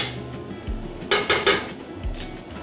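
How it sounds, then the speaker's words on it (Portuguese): Lard goes into a pot on the stove with a few sharp metallic clanks and scrapes of utensil against the pot, close and moderately loud, separated by brief quiet gaps. "A banha de porco na panela."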